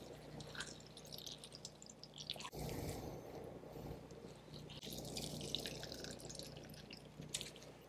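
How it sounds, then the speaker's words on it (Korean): Soaked dried radish greens (siraegi) are wrung out by hand, and water trickles and drips from them in short, faint splashes close by. "시래기를 준비하실 때 이렇게 꼭 이렇게 좀 짜주세요."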